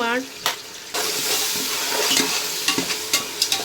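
Homemade ginger garlic paste frying in oil in a pot for nati-style donne biryani, a steady loud sizzle with stirring scrapes and a series of sharp clinks toward the end, no talking.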